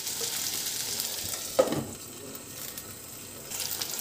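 Potatoes fry in a pan, with a low, even sizzle carrying on steadily and a brief clatter of stirring partway through, close by and with no voices.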